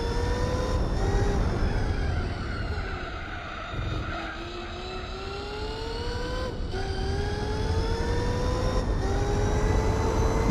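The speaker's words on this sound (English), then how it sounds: "You can hear the tyre squeal as it's like spinning up the tyres, even in like 3rd and 4th gear." A car in Gran Turismo 4 wheelspins through third and fourth gear during a hot rod race, its engine droning loudly and steadily with rising pitch sweeps and gear changes, tyre squeal blended into the roar.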